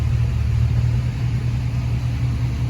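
A car engine idles with a steady, deep rumble through a loud, throaty muffler, constant and close without any revving.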